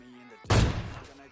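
A single loud gunshot in a shooting video game, a sharp booming blast with a decaying tail, close and prominent over faint background tones.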